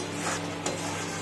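Garlic masala being stir-fried in a pan for a Bengali fish-head muri ghonto, a steady close sizzle with scraping stir strokes and a brief utensil clink partway through, no talking.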